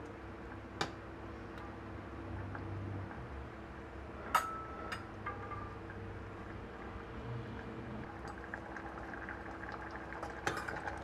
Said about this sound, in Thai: ผ่านไปประมาณ 2 นาทีกว่า ๆ นะครับ มันก็เริ่มเดือด แต่ขอต้มต่ออีกนิดนึง